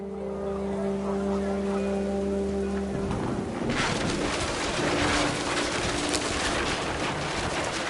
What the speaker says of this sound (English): The rain came down in buckets then